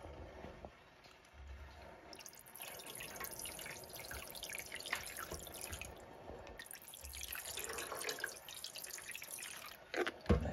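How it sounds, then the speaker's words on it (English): Liquid dye squirted into a container of water for yarn dyeing, heard as close, faint splashing and dripping sounds in bursts. "I'm going to squirt some more dye into here"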